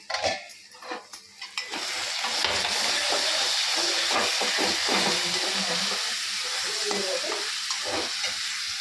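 A pan of peas on the stove gives off a steady, loud hiss of boiling and steam, with a few scrapes and clinks at the start.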